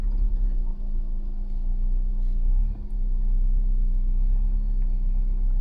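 A 2026 Toyota Tacoma TRD Off-Road Hybrid crawls slowly over off-road terrain, giving a low, smooth, steady rumble with a faint hum and no speech.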